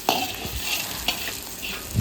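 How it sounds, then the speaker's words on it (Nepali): Garlic, ginger and chilli powder fry in hot oil for chilli chicken momo sauce, sizzling steadily up close while a utensil stirs and scrapes the pan a few times. "अब हामीले तेलमा फ्राई गरेर लसुन अदुवा अनि खुर्सानीको धुलो हालेर यसलाई मजाले भुट्नु पर्छ"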